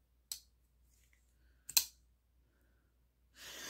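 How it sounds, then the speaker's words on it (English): A Damned Designs Oni XL folding knife flicks open with its front flipper, making two crisp, close clicks spaced about a second and a half apart, followed by a soft breathy rustle. "you can flick it with the front flipper"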